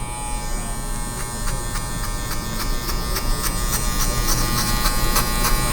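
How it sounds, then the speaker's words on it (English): An electric hair clipper fitted with a 3 guard buzzes steadily up close during a buzz-cut fade, its hum broken by rhythmic flicking strokes through the hair. "I am gonna use my 3 guard, clipper open, kind of flicking out the head"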